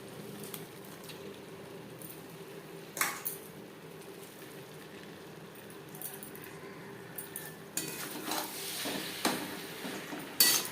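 Boiled, mashed cabbage is stirred with spices in a pan for a cabbage curry, soft squelching scrapes with occasional sharp clinks of a utensil against metal, faint and irregular.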